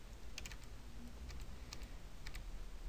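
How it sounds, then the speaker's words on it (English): Quiet keypresses on a computer keyboard, a handful of light clicks in short bursts against a low background hum, with no talking. "So I can type in N for north and say 10 meters."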